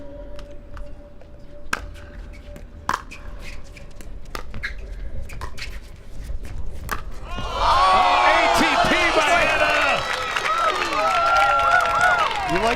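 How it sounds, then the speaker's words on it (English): A crowd at a pickleball match in a ballpark erupts into loud cheering and applause partway through, following paddle pops and commentary voices; the cheer swells and holds near and full to the end. "The crowd loves an ATP."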